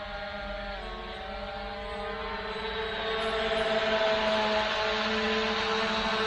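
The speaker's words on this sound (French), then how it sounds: "le drone arrive à son autre point" An SG906 Pro drone flies toward a waypoint, its steady multi-tone motor whine droning continuously and growing slightly louder, with no talking.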